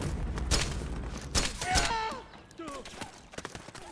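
Gunfire bursts in Metal Gear Solid 4, sharp cracks clustered around the first two seconds and scattered fainter shots after, mixed with in-game voices calling out over the combat.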